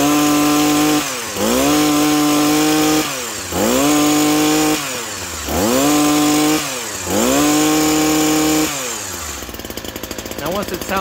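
A STIHL HS82R hedge trimmer's small two-stroke engine runs after an idle adjustment, loud and close, revving up and settling back several times in a steady rise-and-fall rhythm before dropping to a rough idle.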